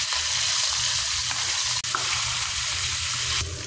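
Ground beef fries in a pan with a loud, dense, continuous sizzle heard up close, with a brief dropout partway through and no talking.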